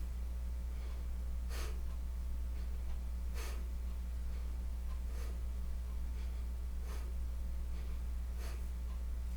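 Deep, slow breaths drawn and released during a seven-breath posture exercise, soft airy puffs recurring about every two seconds over a steady low hum, fairly faint.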